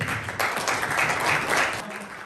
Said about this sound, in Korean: 그러면 박수로 한번 맞아볼까요?